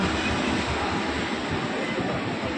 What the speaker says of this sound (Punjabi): ਯਹਾਂ ਪੇ ਲਓ ਵੀ ਮਿੱਤਰੋ ਆਪਣੀ ਆ ਗਈ ਹੈ ਟ੍ਰੇਨ